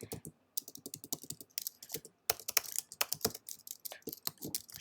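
Rapid typing on a computer keyboard while entering Python code, close and crisp, with bursts of key clicks separated by short pauses and no speech.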